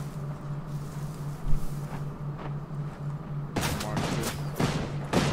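Gunfire in the video game Ghost Recon Wildlands, starting after a stretch of steady hum and faint background noise, then loud sharp bursts of shots packed close together over the last couple of seconds.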